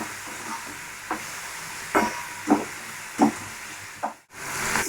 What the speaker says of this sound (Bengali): এবার দিয়ে দেবো টমেটো কুচিটা।